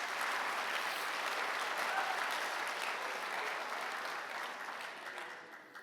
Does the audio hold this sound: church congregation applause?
yes